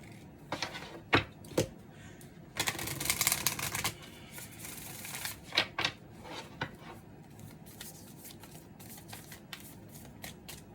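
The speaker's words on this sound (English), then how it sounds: "I swear I be shuffling these cards." Moonology oracle cards being shuffled by hand in bursts of crisp riffling and slapping, with short pauses between flurries, close up and fairly quiet.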